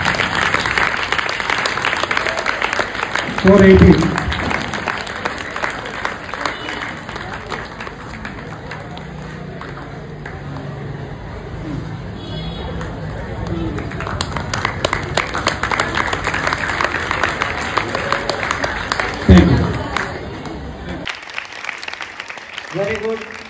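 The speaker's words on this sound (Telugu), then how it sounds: "క్లాప్స్" An audience at a college Independence Day celebration claps in bursts as names are called. The clapping is loud and sustained, a speaker's voice comes over a microphone between rounds, and the crowd murmurs in the background.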